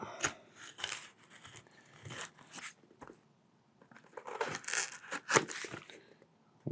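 A taped package being cut open with scissors, with close crisp snips, tearing and crinkling of tape and cardboard coming in irregular bursts separated by brief pauses.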